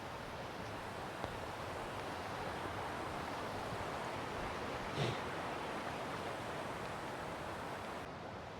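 Steady roar of a waterfall near Melbourne on a wet day, a continuous broadband rush of falling water heard up close, with no voices and only a faint brief knock partway through.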